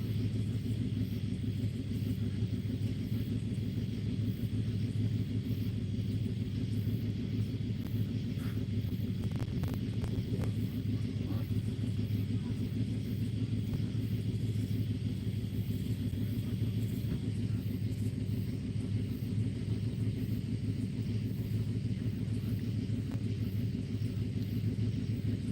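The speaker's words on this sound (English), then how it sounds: "I'm sure y'all don't like hearing that truck exhaust" A loud truck exhaust rumbles close by at a catfish and carp fishing spot. The deep, steady drone holds without a break for the whole stretch.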